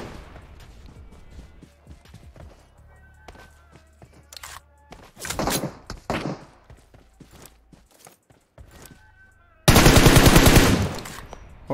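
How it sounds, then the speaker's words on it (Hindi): Gunfire in the video game PUBG Mobile: scattered single shots and short automatic bursts, ending in a long loud sustained volley, with footstep-like thuds in between. "मैं वैसे ही रैंडम फायर दे रहा था"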